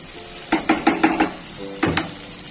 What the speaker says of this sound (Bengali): এখন ছোলাটা খুব ভালোভাবে মিক্স করে নেব